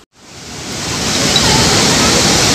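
Roaring water pours down Dhuandhar Falls at Bhedaghat, its fast current building from near silence into a loud, constant broadband rush that fills the space close by.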